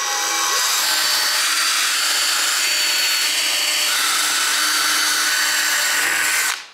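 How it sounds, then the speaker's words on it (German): A power drill bores steadily into a wooden table leg, one continuous high whining grind held close for about six seconds before it cuts off. "Wir bohren ein bisschen vor und dann rein damit, ne?"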